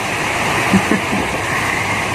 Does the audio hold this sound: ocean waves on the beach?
yes